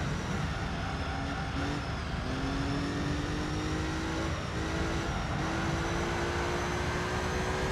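A TVR sports car engine in Gran Turismo 3 drones loudly and steadily, its pitch rising gradually as it revs, with brief dips between pulls, no voices over it.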